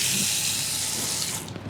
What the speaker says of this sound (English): So you have hot and cold running water.